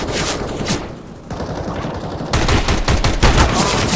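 Bursts of automatic gunfire in the video game CS GO, loud and close, with rapid shots rattling in quick succession and growing heavier toward the end.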